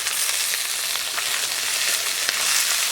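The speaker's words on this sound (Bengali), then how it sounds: "সর্ষে তেল দিয়ে দিলাম, গোটা জিরে ফোড়ন দিয়ে দিলাম, কেটে রাখা পেঁয়াজগুলো দিয়ে দিলাম, 1 চামচ আদা রসুন বাটা দিয়ে দিলাম" Sliced onions, whole cumin and ginger-garlic paste frying in mustard oil for an egg curry, a steady bright sizzle with occasional crackles and spits, close and alone.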